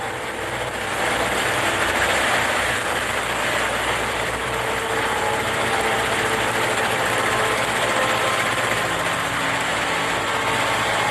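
A motorcycle ridden along a shaded village road, its engine a steady close drone with a low rumble, continuous and unchanging throughout with no voices.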